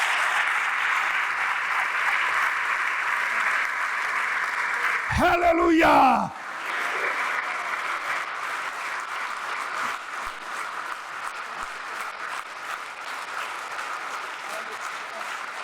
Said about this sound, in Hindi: बजा दे ओदे लई तालियां।